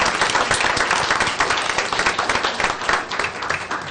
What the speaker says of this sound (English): So we'd like to give you a round of applause.